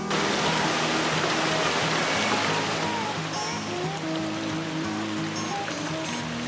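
A mountain creek in Great Smoky Mountains National Park rushes over rocks on the Smokemont Loop, a close, loud, steady wash of flowing water with a faint voice in the middle.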